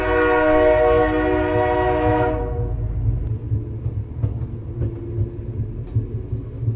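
A train horn sounds long and loud over a deep rumbling engine, then cuts off after about two seconds, leaving the low rumble and clatter of the train pulling away, used as an effect in a horror audio story.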